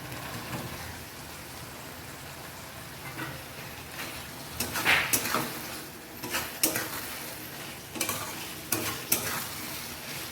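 Potatoes are stir-fried in a pan with rice for a katla fish head muri ghonto, a constant low sizzle that gives way to several sharp scraping and clanking stirs near the end, with no talk.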